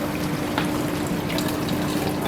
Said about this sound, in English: and the water is flowing here.